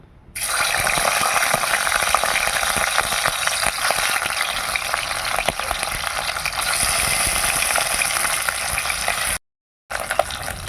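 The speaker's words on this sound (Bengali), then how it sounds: "এবার আমি মাছগুলো ভেজে নেব" Rohu fish frying in hot mustard oil in a wok, a steady, loud crackling sizzle that runs on without a break for about nine seconds, cuts out briefly, then resumes near the end.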